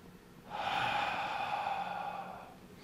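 Slow, deep exhale during a qigong breathing exercise, a single soft breathy rush lasting about two seconds, close and steady before fading.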